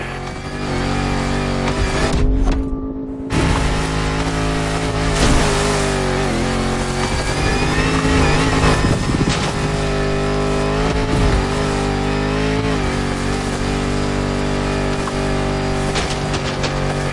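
A Land Rover Defender with 400 horsepower revs its engine in The Crew Motorfest, a loud, sustained roar with shifting pitch, a brief cut-out and occasional tire noise under background music.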